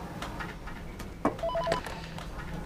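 A telephone rings indoors in a Persian home drama scene, with a short electronic warbling tone burst in the middle, moderately loud, over faint room noise.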